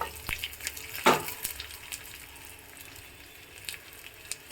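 A tempering of green chilies, finely chopped garlic and curry leaves fries in oil for a Havyaka-style ripe mango gojju, giving a faint, close sizzle broken by scattered stirring clicks and one louder clatter.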